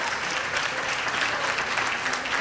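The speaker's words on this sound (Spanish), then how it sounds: "De verdad que merece un aplauso." A congregation at a church gathering breaks into dense, sustained applause, a full crowd clapping loudly throughout with no voices over it.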